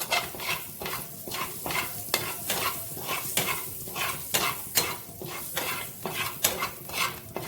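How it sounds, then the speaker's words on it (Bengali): A spice mix frying in ghee in a pan, loud close sizzling with a steady rhythm of spatula scrapes and stirring strokes against metal throughout. "আমি মশলাটা ঘিয়ে ভেজে নিচ্ছি"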